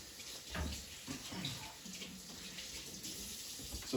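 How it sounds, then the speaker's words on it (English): Tap water runs steadily while hands are rinsed beneath it, a soft, close splashing hiss with slight shifts as the hands move through the stream, faint overall. "I'm going to rinse off my hands"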